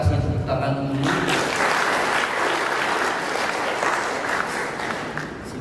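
Large audience applauding at an Indonesian teachers' association event, starting after a voice at the very beginning, then dense, steady clapping that continues loudly for several seconds.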